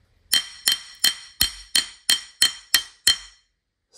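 Nine sharp, ringing taps on a thin slab of dark green jade, struck at a steady rhythm with a rock; each bright, glassy clink rings briefly before the next, close and loud with no talking.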